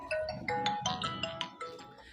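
A phone rings nearby with a repeating electronic melodic tone, steady and moderately loud, with no voices over it.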